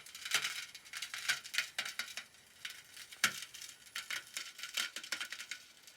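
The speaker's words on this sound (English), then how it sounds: "think it's just like tearing itself away from the paper mache." Rapid crackling and tearing pops, irregular bursts of brittle crinkles and snaps as a balloon tears away from papier-mâché, close by with no talking.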